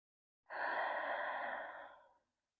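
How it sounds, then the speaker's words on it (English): A single long, audible exhale during a gentle yoga practice, close and soft, a breathy sigh lasting under two seconds with silence before and after. "Let it go on your next exhale. Maybe we audibly exhale it out."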